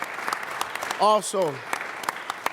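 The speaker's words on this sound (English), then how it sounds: "they deserve a round of applause" Applause for youth coaches at a Lynn city council meeting, a continuous patter of clapping in a room, briefly overlaid by a voice speaking near the middle.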